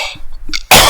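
Two or three soft coughs sound at a distance, followed by a loud, close burst of noise that fills the final moments.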